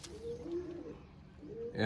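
A pigeon coos in a short, soft, low-pitched burst of two rolling notes, heard close and alone.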